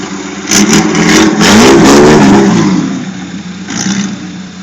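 A small 6cc toy Jeep engine revs hard up close, a loud rising and falling throaty drone that swells around two seconds, then settles back toward a lower idle.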